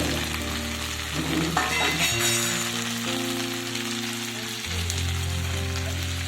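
Fried bitter gourd and brinjal go into a pan of hot oil for a milk-based shukto, with a continuous crackling sizzle under steady tonal background music, the spatter swelling briefly as the pieces drop in.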